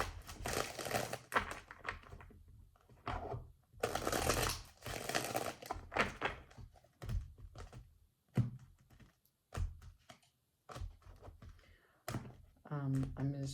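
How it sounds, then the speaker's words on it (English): Close, rapid crisp riffles and thumps as tarot cards are shuffled in two bursts, with someone talking between and after them. "I'm going to shuffle 2 times and take 4 cards direct for the Five of Pentacles."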